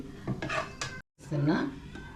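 A metal kadai set down on the stove for tempering, a short clatter of pan against the burner, with a voice talking around it.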